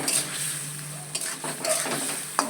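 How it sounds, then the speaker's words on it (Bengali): Egg curry masala with salt sizzling in a pan while a spoon stirs it, close and steady frying hiss with a few sharp scrapes and knocks of the utensil. "পরিমাণ মতন নুন দিয়ে দিলাম ভালো করে কষিয়ে নেব"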